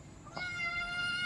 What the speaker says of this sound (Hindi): तो गाइज़ हमें यहाँ पे एक प्यारी सी बिल्ली मिली है और आई जस्ट लव कैट्स